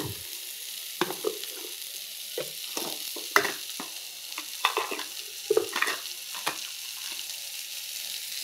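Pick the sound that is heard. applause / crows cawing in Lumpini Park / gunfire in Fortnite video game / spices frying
spices frying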